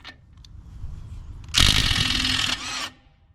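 A Hyper Tough 12V brushless 3/8-inch impact wrench bursts into loud, rapid hammering for about a second and a half, breaking a lug nut loose, after a brief quiet lead-in of small handling noises.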